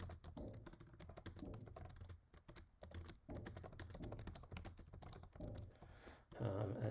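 Someone types a short BASIC program on the keyboard of a home-built 6502 computer. Quick, irregular plastic key clicks come close up, with brief pauses between bursts.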